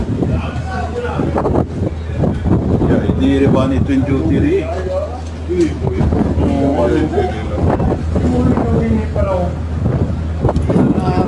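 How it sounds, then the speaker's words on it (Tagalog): Strong wind buffets the microphone aboard the MV Maria Rebecca, a Montenegro Lines ship, as a low continuous rumble and roar under steady, close talk. "sobrang lakas ng hangin, oh"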